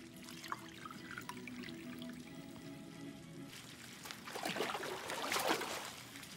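In the video game Life is Strange 2, water runs into a bath as a steady, soft rushing stream that swells louder toward the end.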